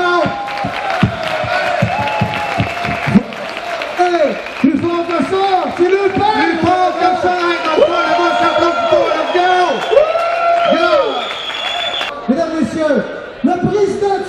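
Crowd applauding, cheering and shouting inside a festival tent at a hunting festival, loud and sustained, with voices calling out over the clapping throughout.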